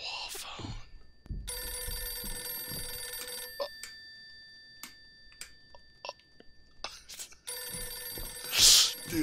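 An old telephone ringing in the horror video game Visage, with two long, bright bell rings separated by a quieter stretch of small clicks and movement sounds, plus a brief crunch near the end.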